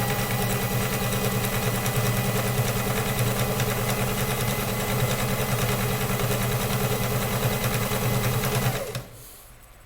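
Singer Heavy Duty 4452 sewing machine stitching fabric, a steady loud whirring mechanical hum with rapid needle rhythm running continuously for about nine seconds before stopping abruptly.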